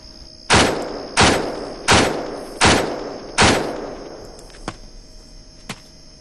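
Five heavy gunshots from ARMA 2 in-game combat, loud and evenly spaced about two-thirds of a second apart, each with a decaying tail, followed by two fainter distant shots.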